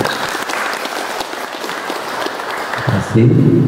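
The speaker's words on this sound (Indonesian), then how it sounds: "tepuk tangan buat beliau" Volunteers at a campaign consolidation gathering in Katapang applaud a district coordinator, a crowd's clapping that carries on under voices and ends in a louder burst of speech.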